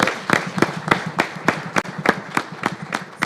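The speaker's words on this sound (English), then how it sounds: "let's give them another round of applause" A small group at a school board meeting gives a round of applause for young student writers: crisp, fairly regular individual claps, close and distinct rather than a dense roar.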